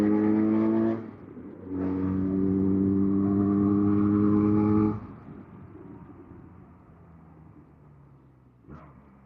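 A QJ SRK 400 motorcycle revs up loudly through a couple of rising engine pulls, then drops away to a softer fading drone as it rides off, with a short blip near the end.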